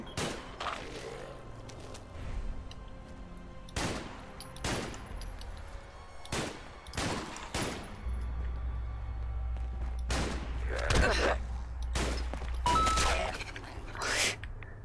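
Sporadic gunshots from Fallout London, a first-person shooter set in London, ring out as sharp separate bursts and short volleys spread across the stretch, with a low rumble underneath and faint game ambience between shots.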